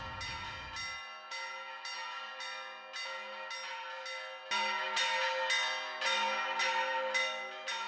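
Church bells ring in São João del-Rei, a loud, resonant series of rhythmic strikes about every half second, their tones layering and swelling as more bells join partway through.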